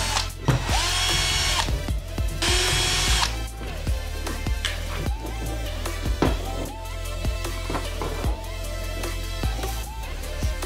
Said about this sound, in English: Drill some holes and put some mounting tape